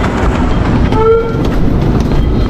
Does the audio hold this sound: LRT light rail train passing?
yes